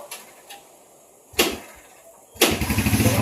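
Motorcycle engine bursting into life in short sharp roars: a faint blip, then a loud rev near one and a half seconds, and another louder burst settling into a pulsing, close rumble at the end.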